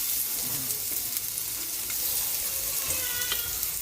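Garlic fries alongside already cooked ginger in a pan, a close, steady sizzle with a crackling hiss and occasional stirring scrapes, no talk heard.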